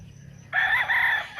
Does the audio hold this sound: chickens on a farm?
yes